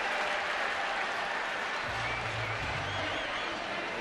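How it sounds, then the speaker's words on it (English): A baseball stadium crowd cheers and applauds steadily after a walk at a major league game in San Francisco, a dense, sustained roar of clapping with a commentator faintly audible underneath. "And listen to this crowd."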